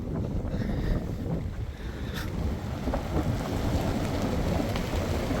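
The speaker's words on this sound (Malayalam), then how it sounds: "ഭയങ്കര കാറ്റാണ്, ഭയങ്കര തണുപ്പാണ്." Strong wind in Spiti valley roars and buffets the microphone with a steady, loud low rumble, gusting without pause.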